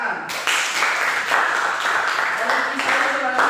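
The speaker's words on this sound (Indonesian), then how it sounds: "Oke, tepuk tangan." Applause from an audience of students and teachers at a junior high school in Lahomi, a dense steady patter of clapping that runs nearly the whole time, with some voices mixed into the crowd.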